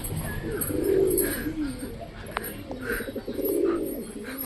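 Pigeons coo in soft, low, rolling phrases close by, one call swelling early and another near the end, with faint chirps and light background noise between them.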